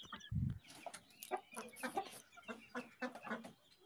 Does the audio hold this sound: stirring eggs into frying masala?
no